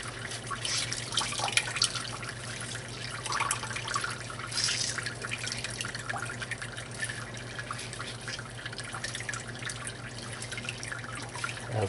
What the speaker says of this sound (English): every so often, when it gets so full of crud, you have to wash the bag